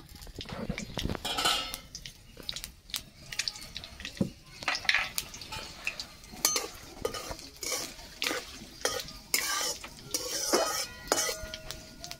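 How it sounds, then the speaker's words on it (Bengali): Dry red chilli, two bay leaves and panch phoron tempering in hot oil, with steady stirring and clinking of a utensil against the pan, a soft sizzle running underneath throughout. "একটা শুকনো লঙ্কা মাঝখান থেকে কেটে নিয়েছি, তেজপাতা দুটো দিয়ে দিলাম, পাঁচ ফোড়ন দিয়ে দেবো"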